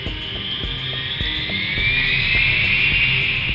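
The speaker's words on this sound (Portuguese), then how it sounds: "o piloto iniciou o processo de taxiamento a partir do portão do aeroporto." A passenger airplane taxiing away from an airport gate, giving a steady, loud jet engine whine that rises gradually in pitch, with a low rumble and faint intermittent thumps underneath and no talking.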